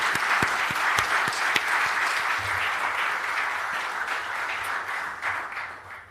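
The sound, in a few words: audience applause at ICAO event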